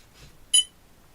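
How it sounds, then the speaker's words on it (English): A micro RC car gives a single short, high electronic beep, sharp and clear against near silence. "Tell me you can turn that beeping off."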